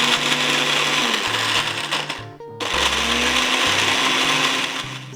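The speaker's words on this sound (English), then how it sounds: "I put them in the blender, break them up into little pieces, do them in small batches, and just pulse" Biscuits being pulsed into crumbs in a kitchen blender, a loud motor whirring in two bursts with a brief stop between them, no talking.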